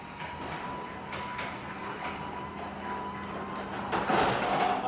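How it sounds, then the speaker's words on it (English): A home garage door opens at the push of a button, its motor giving a faint, steady mechanical hum with a thin whine, growing a little louder and rattlier near the end. "The garage door will open."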